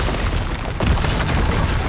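An Expulso spell explosion in Hogwarts Legacy, a loud, close boom that lands partway in and leaves a rumbling, crackling tail under dense game noise.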